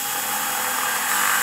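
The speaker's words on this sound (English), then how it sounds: "I'll just be able to follow the hole with the drill bit and drill them in there." A drill drives bolts into an aluminum bracket during an RV fender replacement, giving a steady close motor whine that strains slightly louder near the end.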